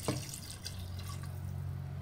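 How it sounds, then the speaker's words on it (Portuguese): Water trickles steadily from a tap or jug into a pan of rice and sun-dried beef, a constant close splash with a brief drip at the start. "Podemos colocar mais um pouquinho de água."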